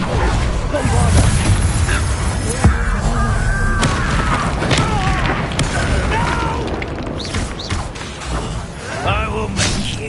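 Bombarda spell blasts in the video game Hogwarts Legacy, loud booming explosions and whooshes layered over continuous battle noise and spoken dialogue.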